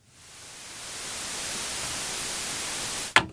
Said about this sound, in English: I'm going to raise the left pink noise